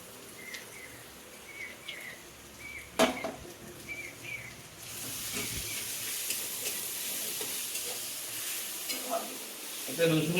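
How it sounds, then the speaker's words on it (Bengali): Garlic, onion and tomato paste being fried and stirred for mutton kosha curry, a soft steady sizzle with occasional scraping stirs of a spatula in the pan, fairly quiet, no talk. "এখন এটাকে পুরো দমে কষাতে হবে, যত কষাবেন তত স্বাদ"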